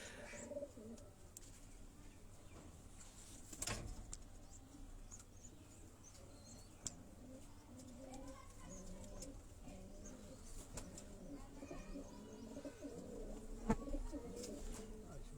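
Domestic pigeons kept on a rooftop coo softly in repeated low, throaty phrases, with occasional chirps and light clattering sounds nearby and no clear speech.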